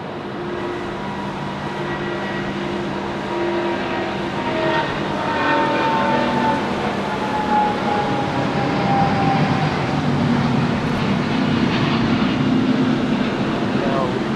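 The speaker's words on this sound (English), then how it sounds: "We'll expect some beautiful sounds out of the Singapore 350 heading back to Singapore." A Singapore Airlines Airbus A350 jet roars loudly and continuously at Sydney Airport in heavy rain, with the engine tone slowly shifting as it passes, while people talk over it.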